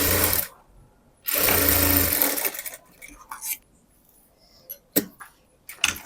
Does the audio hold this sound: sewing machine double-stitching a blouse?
yes